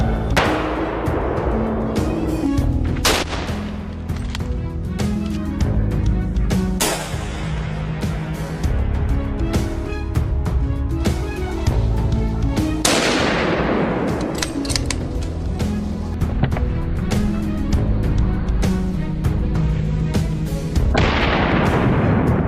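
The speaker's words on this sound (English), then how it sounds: "Gunfire rings out again, this time from Basil's position." Gunshots ring out in a forest during a wild boar hunt, sharp loud cracks repeating at irregular intervals, some with long echoing tails, over continuous background noise.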